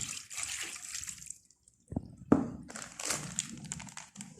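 Water poured into a cooking pot of chicken and pork adobo with onion and bay leaves, a splashing pour coming in bursts with a brief pause in the middle, close and moderately loud.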